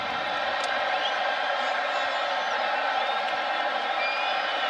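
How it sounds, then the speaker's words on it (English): A large college football crowd at Oklahoma's stadium roars in a loud, continuous wash of cheering and whooping that never lets up. "Crowd worked into a frenzy."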